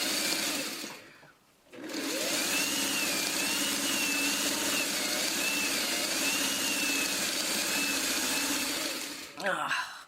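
Sewing machine stitching fabric onto a string basket, a close steady motorized whir running in long bursts with a brief pause near the start and a stop at the end.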